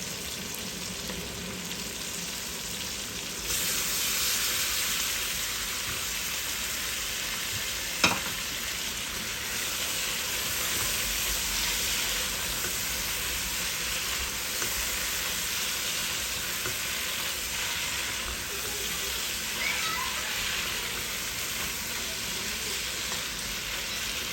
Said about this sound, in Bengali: আমি এখন এই টমেটোগুলো আস্তে আস্তে দিলাইমু।